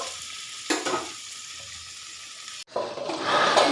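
Potatoes and pointed gourd fry in a pan, a close, steady sizzle with a couple of stirring scrapes; after a short break the frying returns louder and brighter.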